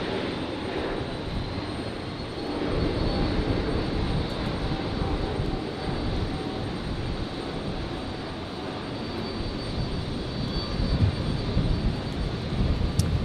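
A heavy jet airliner departs runway 01 right at Brisbane on a stormy night, its engine roar swelling and building steadily in strength, heard alone.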